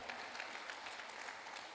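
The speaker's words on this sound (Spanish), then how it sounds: "démosle un aplauso al Señor" A church congregation applauding during a service, a dense, fairly quiet wash of clapping from many hands that continues steadily throughout.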